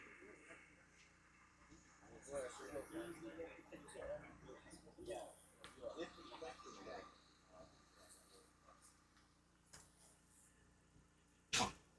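A single sharp sneeze bursts out loudly near the end, after a stretch of quiet, murmured talk in a room during a presentation.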